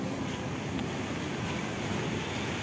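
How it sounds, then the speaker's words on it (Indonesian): Ocean surf washes onto Sanur beach in Bali in a continuous broad roar, blended with wind noise, steady throughout with no voices. "Ini kedengaran suara ombaknya"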